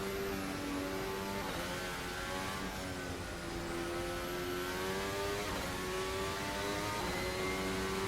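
A 2026 Formula 1 car with a hybrid electric motor in the Assetto Corsa racing game, its engine whining loudly and continuously as it accelerates through the gears in repeated upward sweeps, with no talking.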